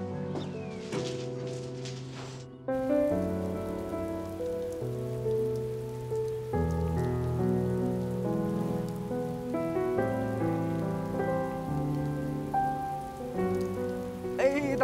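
Steady rain falls outside, a continuous patter of drops on surfaces that stays fairly faint and even throughout, with soft background music underneath.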